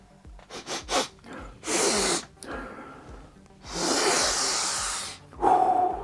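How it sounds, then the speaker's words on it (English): Several close, forceful sniffs and snorts through the nose in quick bursts, with longer drawn-in breaths between them. "we got to do a sniff test."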